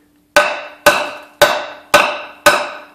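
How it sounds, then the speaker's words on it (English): Fencing pliers used as a hammer strike a metal fence staple five times at an even pace, each sharp, loud metallic knock ringing briefly before the next, with no talk. "See, I can hit this staple pretty hard."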